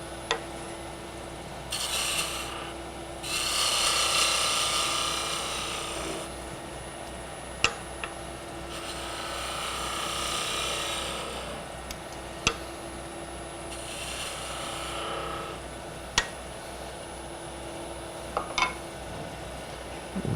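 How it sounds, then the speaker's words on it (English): Roughing gouge cutting wood on a lathe, with intermittent rasping, rubbing passes of a few seconds each, separated by quieter stretches and punctuated by sharp clicks and knocks, fairly faint overall. "you can get a fairly smooth cut with a roughing gouge."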